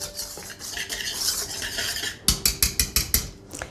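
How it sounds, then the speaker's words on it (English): A whisk scrapes through dry cupcake ingredients in a bowl, a soft rustling swirl followed by a run of about six sharp rhythmic clinks against the bowl's side. "With a whisk, I'm going to whisk those ingredients together"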